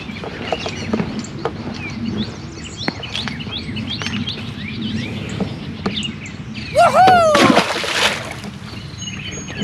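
A bass is let go back into a lake from the bank after a morning of chatterbait fishing, giving one short, loud splash near the end amid birdsong and light outdoor ambience.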